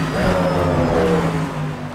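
GT-M race car engine in the sim racing game Assetto Corsa at Donington, revving steadily with a continuous loud drone and rising harmonic tones, alone without talk.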